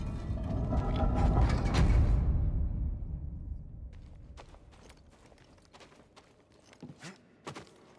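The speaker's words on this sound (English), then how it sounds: "Yeah, I just reactivated the elevator" An elevator reactivates in Star Wars Jedi: Fallen Order, a loud rising mechanical rumble and creak that fades over a few seconds into lighter clanks and ratcheting clicks, with no talking.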